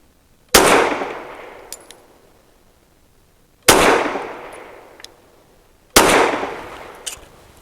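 Fusion Firearms XF Pro pistol firing Fiocchi Defense Dynamics 147 grain rounds, three loud sharp shots spaced a few seconds apart, each with a ringing decay and faint metallic clinks between.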